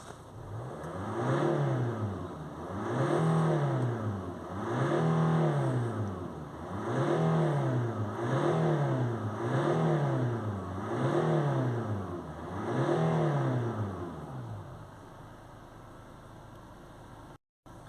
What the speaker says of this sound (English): We'll give it a few accelerations.